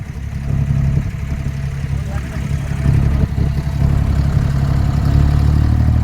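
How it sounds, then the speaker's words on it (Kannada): A boat engine drones steadily during a group boat ride in Dubai, a continuous low, heavy rumble that holds at an even level throughout, with voices faintly mixed in. "ದುಬೈನಲ್ಲಿ ನಮ್ಮ ತಂಡದ ಒಂದು ಬೋಟ್ ರೈಡಿಂಗ್ ನಡೀತಾ ಇದೆ ಈಗ."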